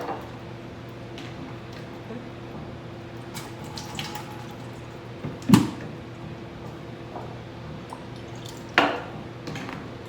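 Distilled water used to clean small pieces one by one: a faint steady trickle of water with two sharp clinks of items being handled.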